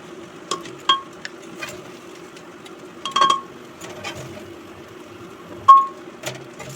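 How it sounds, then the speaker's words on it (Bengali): Rice, lentils and vegetables fry with ginger in a pan, a faint low sizzle broken by sparse metallic clinks and scrapes as a spoon stirs them, with no talking. "একটু আদা দিয়ে চাল ডাল সবজি সব ভেজে নিয়েছি"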